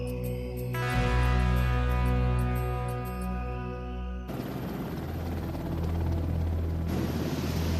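A helicopter's steady, loud rotor and turbine drone with strong tonal hum, shifting abruptly partway into a rougher, broadband whir, continuous and close with no talking.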